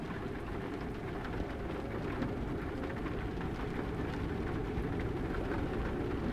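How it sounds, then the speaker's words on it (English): Steady rain rushes on a truck cab in a truck driving video game, a constant broadband hiss with faint passing traffic and no engine prominent. "So we're hearing the rain."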